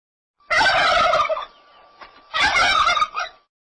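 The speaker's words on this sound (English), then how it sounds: "Turkey." A turkey gobbles twice, two loud rattling bursts separated by a short pause, close and clear with no talking.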